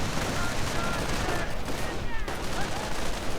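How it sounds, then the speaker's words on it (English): Machine gun fire in the Company of Heroes strategy game, with an MG42 crew among the units, dense continuous rattling bursts mixed with battlefield noise, loud and sustained throughout. "Gunning down the MG crew pulling back towards the bunker."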